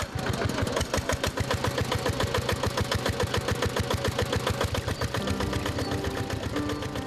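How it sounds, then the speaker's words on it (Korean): A petrol engine drives a water pump on a Philippine sugarcane farm, drawing water through a pipe from a distant canal; its steady, loud mechanical chugging runs without a break throughout. "저 멀리 수로에 연결된 파이프를 끌어다가 펌프에 연결해 엔진을 돌린다."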